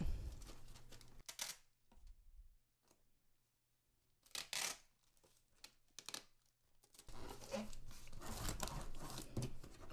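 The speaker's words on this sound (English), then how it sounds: "And then I'm going to tape it up." Packing tape pulled and stretched across a cardboard shipping box for an eBay order: crinkly tearing and ripping bursts with pauses, ending in a longer continuous stretch of tape noise.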